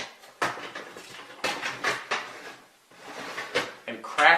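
A metal oven rack is slid back inside an oven, giving several scraping and clattering bumps with brief pauses between them, fairly close and loud.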